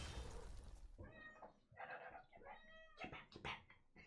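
A pet cat meows several times in quick succession, fairly faint and indoors, its drawn-out, wavering calls following a short burst of rustling.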